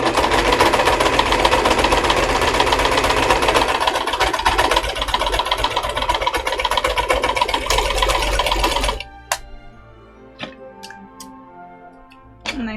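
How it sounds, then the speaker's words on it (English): A sewing machine stitches through a seam on a cosplay costume, running loud and close with a fast, even mechanical whir for about nine seconds. It then stops, leaving faint clicks and handling noises. "I'm gonna line up the seam, and we're just gonna sew through."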